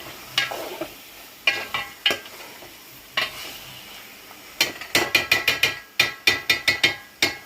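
Fish pieces are stirred in a frying pan with a utensil, giving sharp metallic scrapes and clinks, sparse at first, then a quick rhythmic run of strokes, close and clear with a faint sizzle beneath.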